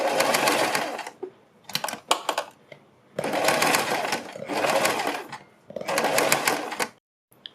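A domestic sewing machine stitches a folded neck facing strip on fabric, running in several loud, buzzing bursts of a second or two, separated by short pauses and brief stop-start jolts.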